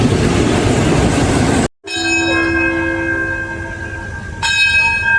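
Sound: local train departing station, Thai railway

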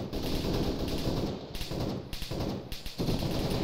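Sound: gunfire from a video game battle

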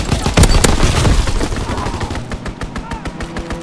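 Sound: enemy strafing run gunfire in Call of Duty WWII video game

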